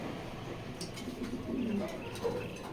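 A racer pigeon coos softly a couple of times, low brief calls close by over a faint background hum.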